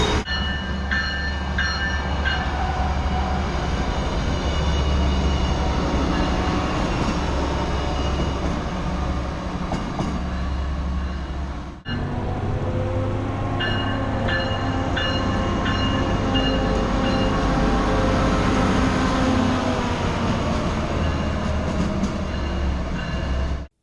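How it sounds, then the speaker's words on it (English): A diesel light rail train rolls down the middle of Burlington's main street in New Jersey, a long, loud, close pass of rumbling engine and wheels with metallic squeals, fading briefly before a second heavy stretch of rolling noise. "trains pass right down the middle of the main street"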